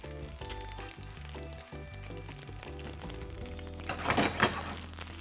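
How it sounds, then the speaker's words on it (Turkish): Soft sizzling of mushrooms frying in a pan, steady and fairly quiet, with a brief louder burst of crackling near the end. "Mantarlarımı iyice kızartacağım."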